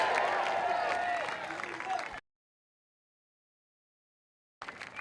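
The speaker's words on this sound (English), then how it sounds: "Let's give them a great round of applause." Crowd applause at a get-out-the-vote campaign rally in Fairfax, Virginia: a couple of seconds of dense, steady clapping and crowd noise. It cuts to silence, then the crowd noise briefly returns.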